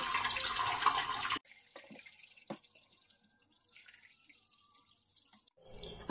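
Cold water pours over cooked pasta in a kitchen, a loud rushing splash for just over a second that stops abruptly, followed by faint drips and small clatters before the rush briefly returns at the end.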